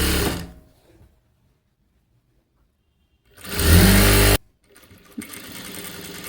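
A sewing machine stitches folded puff sleeve fabric in one loud, steady burst of about a second, set between quieter handling noises and a lower running hum near the end.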